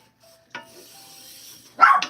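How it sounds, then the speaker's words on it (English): A dog barks in a quiet room, one sharp bark early on and a louder bark near the end, separated by near silence. "What are you barking at?"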